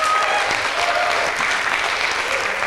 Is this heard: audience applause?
yes